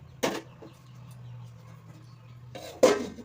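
Metal lid being handled and set down on a pot of cooking vegetables in a home kitchen, giving two sharp clanks about two and a half seconds apart, close and clear, with a low steady hum between them.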